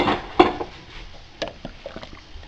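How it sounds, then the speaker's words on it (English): A spoon clinks and scrapes against a pot of cheese potato soup a few times, irregular knocks with soft wet stirring between them. "and give it a stir"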